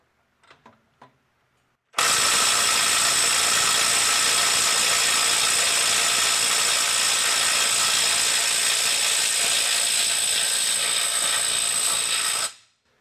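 Makita 18V brushless right angle impact wrench (XLT03/XLT04) hammering steadily against stubborn fasteners, a loud continuous rattling buzz that starts abruptly after a few faint clicks and runs about ten seconds before cutting off.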